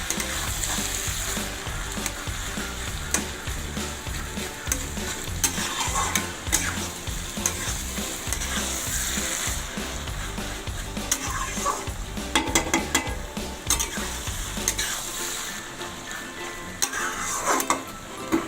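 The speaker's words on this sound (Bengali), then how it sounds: "এবার এটাকে ভালো করে নাড়াচাড়া করতে হবে যাতে চিচিঙ্গে আর ডিমগুলো ভালোভাবে মিশে যায়।" Snake gourd and eggs frying and being stirred in a pan, Bengali style, with constant sizzling and repeated scraping, clinking stirs that stop near the end and leave quieter sizzle.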